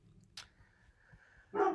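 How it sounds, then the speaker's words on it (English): A pet dog barks twice in the background indoors: one short yelp early, then a louder bark near the end, both fairly faint and distant. "My dog is saying hello in the background."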